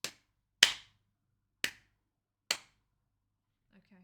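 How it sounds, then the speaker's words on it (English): A few sparse, sharp hand claps, four of them, land about a second apart as a thin, quiet round of applause. A faint voice follows at the end. "Okay, that was a slightly pathetic round of applause."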